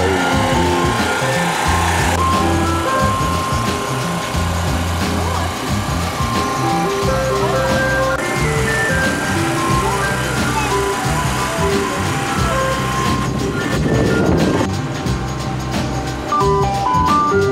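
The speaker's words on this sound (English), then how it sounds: "Yo, they got an ice cream truck." Ice cream truck parked outdoors by the water, its melody and idling engine running loud and close alongside mixed street noise, with brief bursts of nearby activity.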